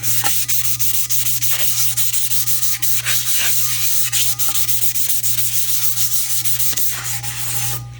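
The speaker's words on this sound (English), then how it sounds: "That's all the sanding that I'm doing." Hand sanding of a tumbler surface to scuff it up, a close, steady rasping rub with short repeated strokes and a faint constant hum beneath, no talking.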